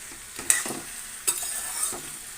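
Ivy gourd being stirred with turmeric in a pan, soft scraping strokes with a few sharper knocks from the utensil, over a faint sizzle, close and moderately quiet.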